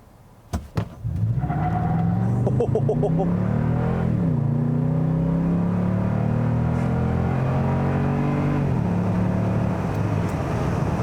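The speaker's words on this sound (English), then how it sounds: "let's go ahead and test out the 0 to 60 for this truck. I'm just going to floor it." A 2021 Toyota Tundra TRD Pro pickup is floored from a standstill for a 0-to-60 run, its engine roaring up through rising revs with distinct gear changes, loud and close throughout.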